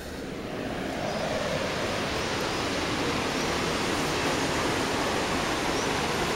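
A Himalayan river near the Manikaran hot springs rushes steadily as a broad, even roar of flowing water, heard at a distance, with no voices over it.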